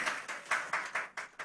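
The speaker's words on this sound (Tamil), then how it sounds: "ரெமேலுக்கு ஒரு கைத்தட்டு கொடுப்போமா?" An audience clapping for Remel in a church gathering: a loose, fairly slow series of about eight hand claps in a steady rhythm, moderately close and alone without talk.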